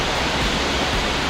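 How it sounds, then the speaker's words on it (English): Aldeyjarfoss waterfall in North Iceland in winter, a steady, dense roar of rushing water filling the whole clip without a break, with no voices over it. "Aldeyjarfoss, one of the most beautiful waterfalls in Iceland."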